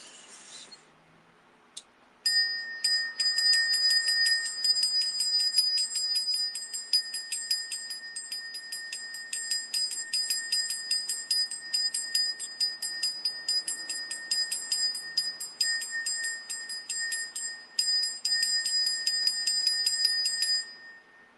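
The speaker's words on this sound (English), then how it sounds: "Take a breath. We're gonna ring a bell." A small bell rings in a long, rapid series of bright strikes, close and clear, with brief pauses, after a near-silent start.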